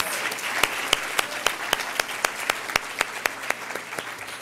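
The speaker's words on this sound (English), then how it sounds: "if you would join me in giving her a round of applause." A crowd at a gala dinner claps steadily throughout, a round of applause with many overlapping hand claps and some sharper individual claps standing out.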